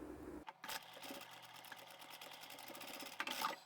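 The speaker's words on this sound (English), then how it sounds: "I'm also going to sew it again in a little bit further" A sewing machine runs a seam through fabric for a simple phone pouch, a rapid even mechanical chatter heard up close for a few seconds after a brief pause.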